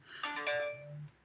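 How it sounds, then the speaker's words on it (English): A mobile phone ringtone sounds indoors, a short melodic electronic ring of a few bright tones, fairly close and clear, with no speech over it. "That was my phone."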